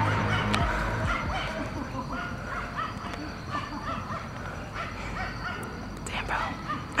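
A large dog barks repeatedly nearby outside a mansion amid a busy, noisy background, with voices talking throughout.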